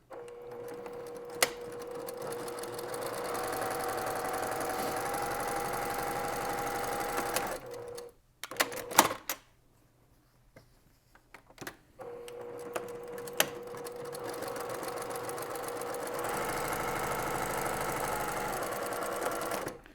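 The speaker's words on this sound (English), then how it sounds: "we're going to sew both sides of this" A sewing machine stitches a seam on a tool pouch in long steady runs, with a short pause and a few clicks midway before the rapid motor hum resumes, close and without speech.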